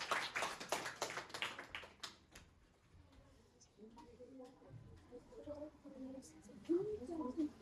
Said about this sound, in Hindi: बहुत बढ़िया, जोरदार ताली बच्चे।